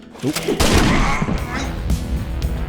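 A shotgun in Ashes: Dead Man Walking goes off in a loud, close blast that rolls into a booming, scattered tail, with game sounds continuing underneath.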